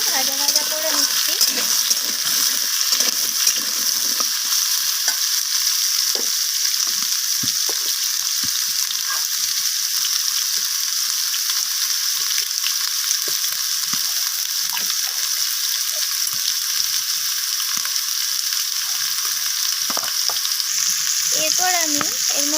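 Potato and papaya pieces fry in a pan for a vegetarian spinach dish, giving a steady, close hiss of sizzling oil with scattered stirring scrapes and clicks throughout.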